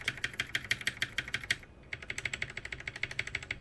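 Rapid keystrokes on an RK61 mechanical keyboard, one key with lubed switches and another with unlubed switches, two quick runs of close, crisp clacks separated by a brief pause.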